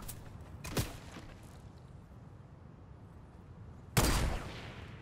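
Two loud, close sniper rifle shots in Fortnite, spaced about three seconds apart, each a sharp crack that rings out briefly over a quiet game background.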